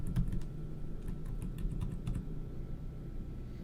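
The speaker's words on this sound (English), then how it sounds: "you can also use the square bracket keys on your keyboard to make the brush" Keys on a computer keyboard are tapped repeatedly while adjusting a digital brush size, a quick series of close, light clicks with irregular rhythm and no talking.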